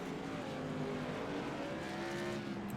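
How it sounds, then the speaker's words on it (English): Race cars in a sim racing game pull into pit stops at the Irwindale oval, a steady, dense engine drone with overlapping motor tones holding at an even level throughout. "we're seeing all these cars coming out for pit stops"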